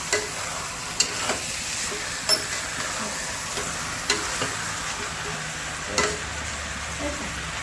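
Chicken with onions and tomatoes frying in a pan, a steady soft sizzle broken by regular scraping clanks of a spoon stirring every second or two, heard close with no talk.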